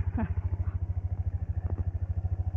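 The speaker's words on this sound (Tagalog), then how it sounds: "Yo, bagong motor ni Jennifer." A new motorcycle idles close by with a steady, rapid low thumping pulse throughout, a brief voice sounding at the start over the engine.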